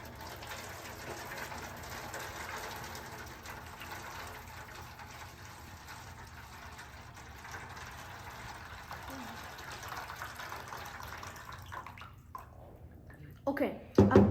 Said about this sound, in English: So I'm going to be pouring the hot water first.